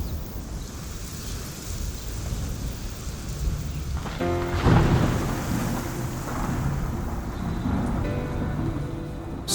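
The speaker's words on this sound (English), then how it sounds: "Storms, lightning, and thunder." A thunderstorm on the savannah: steady rain hisses throughout while a deep roll of thunder swells near the middle and fades back under the downpour.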